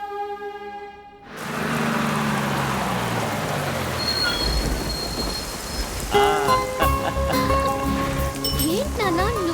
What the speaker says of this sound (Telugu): వర్షం పడుతుంది కదమ్మా